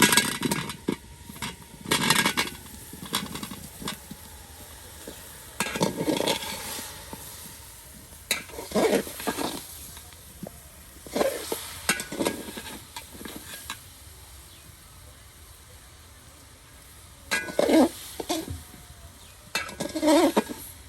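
Boiled, cracked olives are stirred in sugar syrup in a village kitchen pot, giving intermittent bursts of wet scraping and sloshing with light clinks of the utensil, separated by quiet gaps.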